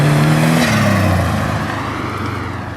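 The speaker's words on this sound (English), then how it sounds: "the sound of this turbo wastegate and engine note really make it really enjoyable" A 2000 Subaru Outback with a swapped STi turbo engine revs hard, the pitch climbing then dropping as the throttle lifts and the wastegate releases, the loud close roar fading into a softer rumble.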